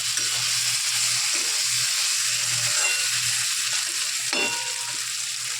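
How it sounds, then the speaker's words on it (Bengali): Prawns sautéing in a spice mixture in a pan while being stirred, giving a steady close sizzle with soft scraping strokes throughout and no talking. "এবার এটার সাথে একটু কষিয়ে নিই।"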